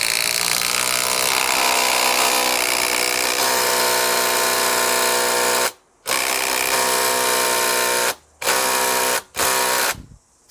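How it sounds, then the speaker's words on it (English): A Makita TD001G impact driver running at top speed: a loud, close, continuous buzzing hammer for about six seconds, then several short bursts separated by brief silences. "Let's now try the original, the TD001G, in its top speed."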